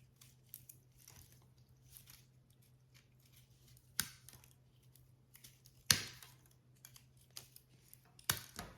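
Scissors snipping patriotic decor pieces, a few sharp isolated cuts spaced seconds apart amid quiet rustling and light handling noises.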